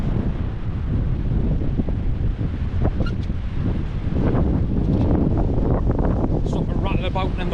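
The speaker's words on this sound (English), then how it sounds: "Something rattling about in the wind." Strong wind buffeting the microphone on a sea shore at Beacon Point, Newbiggin-by-the-Sea, a loud continuous roar and rumble with faint rattling above it.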